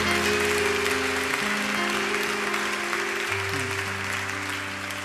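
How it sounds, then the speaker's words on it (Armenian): Sustained applause from a church congregation during a Christmas worship service, a dense steady clapping wash with a sustained musical tone underneath that fades slightly toward the end. "Եկեք ծափարենք յանց համար"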